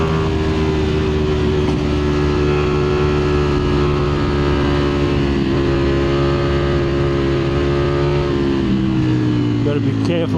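A 2025 Ducati Streetfighter V4S motorcycle engine drones steadily while riding through corners, its loud sustained tone shifting pitch near the end, with someone talking over it throughout.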